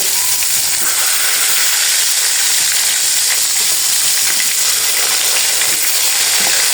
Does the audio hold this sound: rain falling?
no